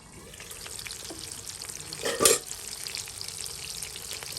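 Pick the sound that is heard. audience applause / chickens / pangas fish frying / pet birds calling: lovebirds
pangas fish frying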